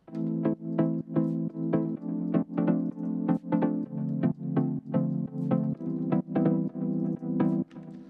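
Plucky synth melody run through a Kickstart sidechain effect, each note pumping and swelling in a steady rhythmic groove, close and clear with no voices over roughly eight seconds.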